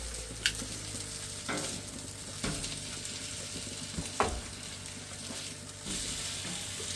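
A steak fries in a pan with a continuous hiss and crackle, broken every second or two by short clattering bursts of movement close by.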